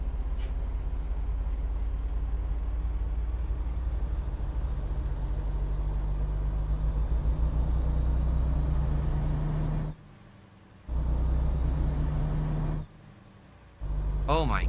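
A vehicle inching back and forth on a narrow road, its engine drone a steady low rumble held close, cut off abruptly twice near the end, with speech mixed in.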